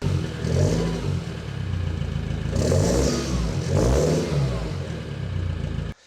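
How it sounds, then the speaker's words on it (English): A restored Land Rover Defender engine runs and revs up twice, a gruff mechanical drone rising and falling with little exhaust note, then cuts off abruptly at the end. "At the moment you can hear a lot of engine noise, but you don't hear much exhaust note."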